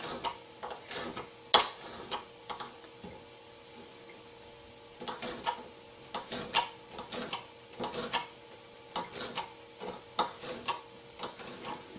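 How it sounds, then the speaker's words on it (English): A knife slices peppers into little strips on a cutting board, making irregular clusters of crisp taps and chops, close and fairly quiet, with pauses between bursts. "I just cut them into little strips"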